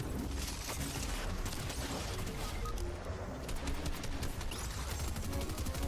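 Gunfire rattles in Fortnite in dense rapid bursts, loud and continuous over a busy mix of game noise.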